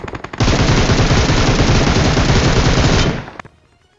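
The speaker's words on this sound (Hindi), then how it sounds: "ये बंदा बहुत देर से फट फट फट फट गोली चलाया जा रहा था" Loud, close automatic gunfire in the battle royale game BGMI, a rapid continuous burst of shots lasting about three seconds before cutting off and trailing into quiet, with no voices.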